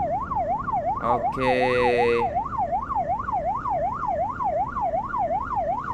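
Ambulance siren wailing steadily in a rising-and-falling yelp on a Malaysian road with a police escort clearing traffic, loud and continuous throughout, briefly overlapped by a short horn-like blast and a quick spoken word.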